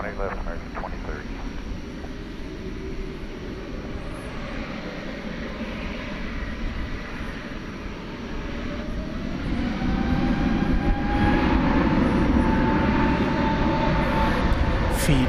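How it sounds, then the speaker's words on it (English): Airbus A321neo airliner arriving from Las Vegas at Dallas/Fort Worth airport at night, a steady broadband jet roar that swells louder in the second half, with a faint rising engine whine and distant voices underneath. "Coming in from Las Vegas, flight 3978, Airbus A321 Neo."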